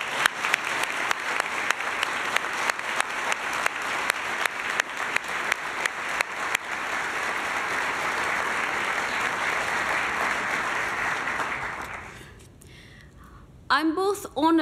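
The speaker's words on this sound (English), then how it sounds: "Let's give them a big round of applause." Audience applause at an award ceremony for International Day of the World's Indigenous Peoples, a long sustained round of clapping from a crowd that fades out near the end before a voice begins speaking.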